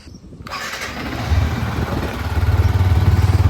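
A Yamaha R15 M motorcycle cold-starts in a parking area, a short starter whir catching into a loud, close engine that settles into a throbbing idle.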